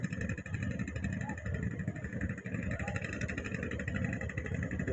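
A sand-dredging trawler boat's engine running beside a river fishing spot on the Padma at Rajshahi, a loud continuous low diesel rumble with steady mechanical whine, close and unbroken, with someone talking over it.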